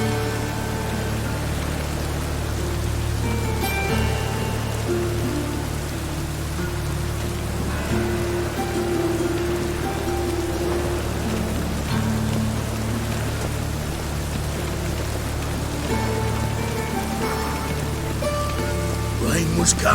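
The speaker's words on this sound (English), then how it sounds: "Rain was coming." Steady rain falls across a surface throughout, a dense even hiss with scattered droplet patter, moderately loud and close, with no voices.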